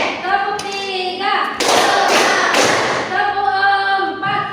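Hands clap together in a classroom counting exercise, sharp loud bursts of clapping alternating with stretches of a sustained tonal voice, the claps dense and forceful in the middle.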